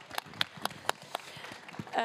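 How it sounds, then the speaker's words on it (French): Scattered, sparse hand claps ring out in a conference room as an audience applauds the speakers, distinct individual claps rather than a full ovation, fairly faint overall. "Je vous demande un tonnerre d'applaudissements pour nos speakers"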